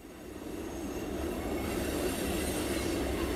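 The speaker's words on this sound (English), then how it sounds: "The train that's going by right now is" A Burlington Northern freight train rolls past on a track running between Memphis and St. Louis, a steady loud rumble of wheels and cars building slightly and holding without a break, with no voices.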